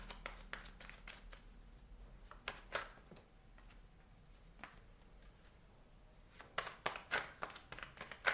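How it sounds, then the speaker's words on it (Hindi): Tarot cards are drawn and handled during a reading, with soft quiet snaps, slides and shuffles in uneven clusters, faint and close, growing busier toward the end. "मैं कुछ और कार्ड्स ले रही हूँ ताकि और डिटेल में हम रीडिंग कर सकें"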